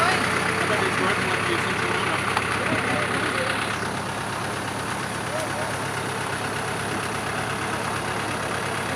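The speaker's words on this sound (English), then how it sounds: "we're on a tractor," Steady low rumble of a tractor engine pulling a farm wagon on a bumpy cranberry farm road, continuous throughout under a guide talking nearby.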